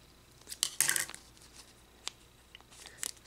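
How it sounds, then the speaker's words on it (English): Scissors snip a small hole in a plastic bag sealed around a dab of silicone, giving a few short, close crisp cuts and rustles, the loudest burst early, then scattered lighter snips with no talking. "squirt a small amount of silicone in, seal it up, cut a small hole"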